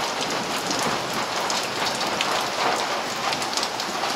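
Steady, dense rain falls throughout, a continuous hiss of drops pattering on surfaces, fairly loud and close with no voices.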